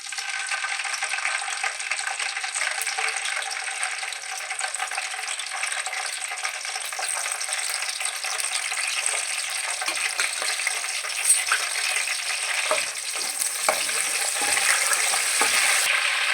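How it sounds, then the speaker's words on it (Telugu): Green chillies and curry leaves crackle and sizzle in hot oil for a fish curry, a dense steady frying hiss with stirring clatter and small scraping knocks growing sharper toward the end; no talking. "ఆయిల్ వేడెక్కిందండి పచ్చిమిరపకాయలు కరివేపాకు వేసుకుందాం"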